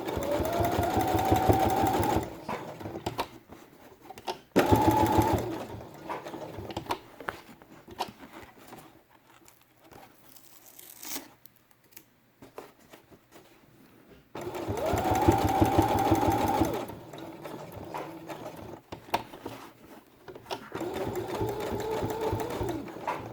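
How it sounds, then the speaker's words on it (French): A sewing machine stitches red felt pieces for a felt quiet book, running in bursts of rapid whirring stitches with pauses between, close and clear, with faint handling sounds in the gaps. "C'est parti pour coudre les éléments rouges."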